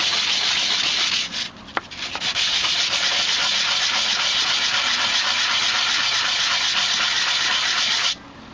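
Steady, broad scratchy rasp of 120-grit sandpaper rubbed by hand over a wooden Native American flute block, continuous for several seconds with a brief pause near the start, close and fairly loud.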